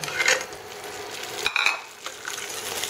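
Already-fried streaky pork belly tipped into a hot pan on the stove and stirred, giving a steady sizzle broken by scraping and stirring bursts, close and fairly quiet, with no voices.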